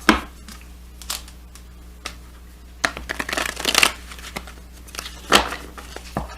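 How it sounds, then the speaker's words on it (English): Gilded Tarot cards being shuffled by hand, close and crisp riffles and flutters in irregular bursts with soft slides and taps between them, no speech. "Let's pull from the Gilded Tarot."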